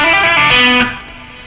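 A distorted electric guitar sustains a note with rich overtones in a slow descending rock scale pattern, shifting pitch once before ringing out and fading, played alone and fairly loud.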